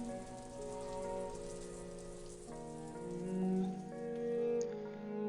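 Steady torrential rain in a video game patters down over a bed of sustained musical tones, the downpour constant and moderately loud with no voices.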